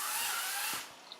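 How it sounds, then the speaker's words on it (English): An electric chainsaw, run flat out, cuts through an old piece of wood with rough grain. It gives a steady, loud, buzzy whine that drops away near the end of the cut. "electric chainsaw is pretty much maxed out right about now"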